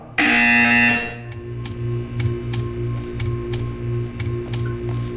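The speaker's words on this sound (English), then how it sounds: "When you hear the buzzer, stare at the art." A loud, harsh buzzer sounds for about a second in the Portal 2 video game, then gives way to a steady low hum carrying a regular ticking pulse, with no talk.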